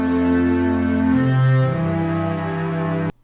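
Bass instrument preset demo in BandLab: a sustained, deep synthetic bass tone that steps to a lower note midway, holds steady and cuts off abruptly after about three seconds, played alone with no voices.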